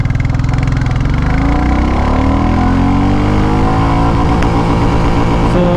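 A Royal Enfield Classic 350 motorcycle accelerating in first gear, its loud close thumping single-cylinder engine climbing steadily in pitch as it revs up.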